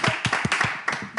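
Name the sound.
applause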